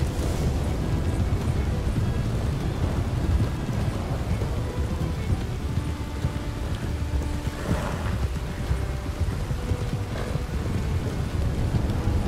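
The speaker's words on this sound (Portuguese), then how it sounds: "Chuva desagradável, muito, muito forte, com vento, fazendo frio. Muitos raios, hein?" Heavy wind-driven rain and a thunderstorm in Red Dead Redemption 2, a loud, dense and continuous roar of downpour with rumbling thunder swelling partway through and no talking.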